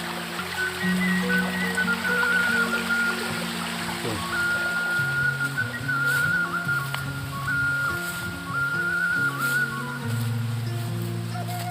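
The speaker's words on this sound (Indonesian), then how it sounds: "Ya teman-teman, ini aliran sungai." A fast, swollen river rushes through a cool village among terraced rice fields east of Bogor, a steady close wash of flowing water with faint talk and occasional tonal hums over it.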